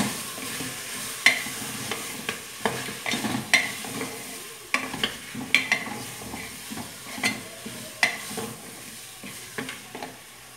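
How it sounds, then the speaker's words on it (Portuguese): Beef sautéing in a pan with annatto (colorau), spatula strokes scraping at an uneven rhythm over a soft background sizzle, close and moderately loud, with no speech. "E vou refogando, gente. Eu gosto de deixar a carne bem fritinha."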